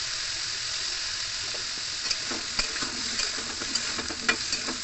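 Pointed gourd (potol) fries in hot oil in a home kitchen pan, a steady close sizzle with scattered crackles and the light scrape of stirring.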